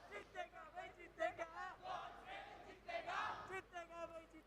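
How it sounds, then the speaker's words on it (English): Arena crowd at a Valorant esports grand final chanting in unison, a steady rhythmic roar of many voices that rises and falls, filling the space without any single speaker standing out. "These chants are amazing."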